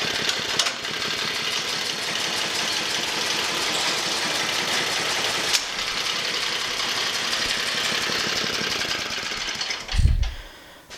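An MTD snowblower engine runs steadily with its auger engaged, a loud, even mechanical drone that holds for about ten seconds and ends with a brief low thump.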